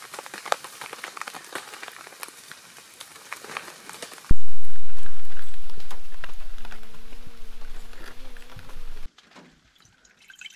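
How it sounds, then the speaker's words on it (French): Rain patters on a soaked tent, heard as scattered drips and taps. Partway through, a louder rushing, fading sound with a faint tonal whine covers it, then it drops to near quiet. "il pleut à mort dehors"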